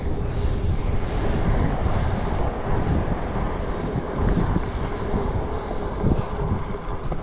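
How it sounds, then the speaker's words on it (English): Strong wind in Colorado Springs roars across the microphone during a bike ride, a loud, constant buffeting rumble with no pauses. "That wind is brutal."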